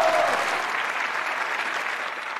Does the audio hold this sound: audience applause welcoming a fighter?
yes